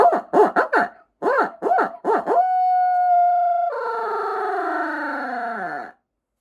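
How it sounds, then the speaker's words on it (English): An owl hoot turkey-hunting locator call: a rapid series of short hooting notes, then a long sustained tone that wavers and slides downward, loud and close in a quiet space. "owl hoot is a great locator call"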